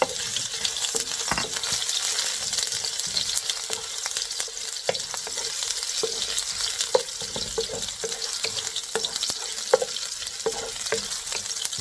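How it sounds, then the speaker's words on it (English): Ginger sautéing in a hot pan at the start of a Filipino kinamatisang chicken stew, a steady bright sizzle with scattered crackles and scrape-like stirring clicks throughout, close and continuous with no voices. "let's start sautéing our kinamatisang dish."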